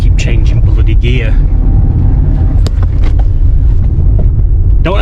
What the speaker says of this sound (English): This car does not sound healthy.